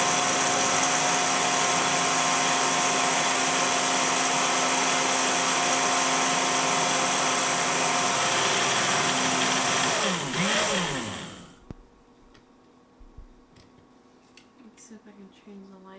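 An OYeet personal blender runs loud and steady with a constant motor whine, then winds down and stops near the end, leaving quiet handling noises.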